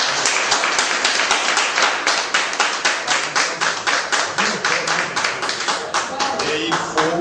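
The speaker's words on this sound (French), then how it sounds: "vraiment, applaudissez." Loud, close rhythmic clapping from a studio audience on a French-language broadcast, a fast steady run of sharp hand claps continuing throughout with a faint voice underneath near the end.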